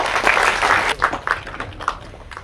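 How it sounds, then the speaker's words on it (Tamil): Audience applause at a Tamil movie audio launch, a dense burst of clapping that gradually thins into scattered individual claps. "உங்களோட பெரிய ஆதரவுக்கு முதல் எடுத்துக்காட்டு உங்க கைத்தட்டல் மட்டுமே"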